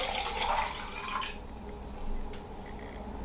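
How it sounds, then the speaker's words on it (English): Water trickles and splashes into a backpacking stove pot, a short pour that fades out, fairly quiet and close. "We'll pour the same amount of water in."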